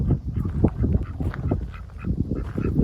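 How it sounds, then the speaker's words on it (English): A cluster of ducks quacking and honking together, dense and close, overlapping calls with no pauses and a low rumble of wind underneath. "Hi ducks."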